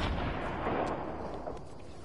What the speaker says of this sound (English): Someone has a rocket launcher, I heard it.